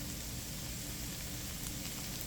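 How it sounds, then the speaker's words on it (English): Garlic and onion sautéing in a pan, a steady, even sizzle and crackle that holds at a constant level throughout, with no voices over it. "Add our garlic and onion and allow that to saute"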